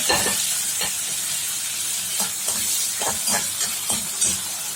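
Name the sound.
onion and tomato sautéing in oil in a kadai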